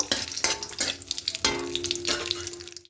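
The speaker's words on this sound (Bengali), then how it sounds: "এবার তেলের মধ্যে ফোড়নে দেব কালো জিরা আর দুটো শুকনো লঙ্কাকে এভাবে করে ছিঁড়ে নিয়েছি দিয়ে দেবো দিয়ে একটু ভেজে নেব" Black cumin seeds and torn dried red chillies crackle in hot oil as a tempering, a close busy sizzle with several spatula scrapes and stirs at irregular intervals and no talking.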